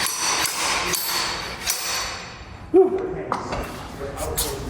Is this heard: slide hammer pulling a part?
yes